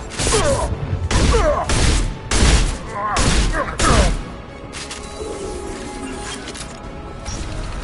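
Several heavy bursts of gunfire in the Mass Effect 2 video game crack out in close succession over the first four seconds, then fade to quieter combat ambience with a voice briefly audible.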